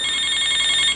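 A cellphone rings with a rapid, pulsing electronic ring, loud and steady for the full second, with no voices over it.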